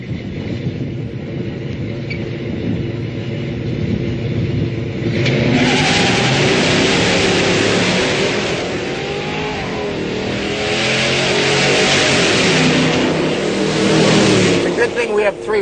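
A muscle car's engine revs up and launches hard off the line, a loud close roar that builds and surges with tire-breaking wheel spin, while a voice speaks over it.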